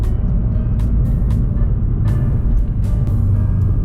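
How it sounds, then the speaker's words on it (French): Manual-transmission car engine pulling in fourth gear as light throttle is applied after the clutch is released, a loud, steady, close drone heard from inside the car with no talk. "Pied sur la clutch, quatrième, mets un peu de gaz et tu relâches."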